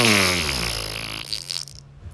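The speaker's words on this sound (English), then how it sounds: "I didn't just fart" A long, loud buzzing fart, close and sustained for over a second, its pitch sliding as it fades into a rougher flutter.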